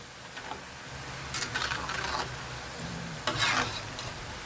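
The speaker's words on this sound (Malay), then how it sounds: "Kita goreng sampai keperangan." Kuih tiram dough made with Nestum sizzles steadily in hot oil over a not-too-high flame, with a couple of brief louder bursts of crackling as it is moved in the pan.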